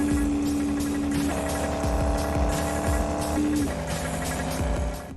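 A racing video game car engine in Highway Race Pro drones loudly and steadily, its pitch holding and then shifting up between gears, with a faint tire and road hiss throughout.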